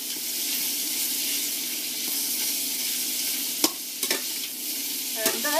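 Crayfish frying in garlic butter and oil: a steady, even sizzle throughout, with a few sharp clicks and scrapes of stirring near the end.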